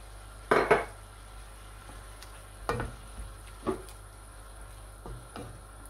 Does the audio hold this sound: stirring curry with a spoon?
yes